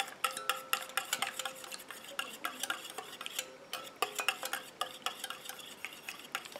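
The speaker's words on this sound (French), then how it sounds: "Et je rajoute mon lait d'avoine tout gentiment en tournant comme ça." A spoon stirring oat milk into a cream in a pan, rapid irregular scraping and clinking strokes, close and moderately loud, steady throughout with no voices.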